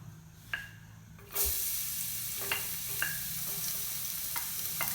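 Garlic dropped into hot oil in a pan to sauté, a sudden loud sizzle that settles into a steady hiss, with light clinks and stirring taps of a utensil on the pan.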